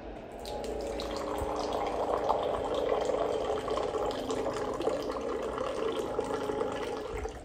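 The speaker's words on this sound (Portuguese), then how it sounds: "A queda d'água dele é excelente." Water pours steadily from an Electrolux Aqua Plus water purifier, a constant splashing stream at close range that holds an even level throughout.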